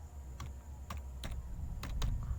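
Sparse keystrokes on a computer keyboard, about half a dozen crisp clicks at an uneven pace, close but soft against a low background hum.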